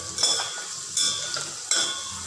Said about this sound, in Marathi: बघा छान असे तळतायत पावटे आणि शेंगदाणे, असं हलवत राहायचं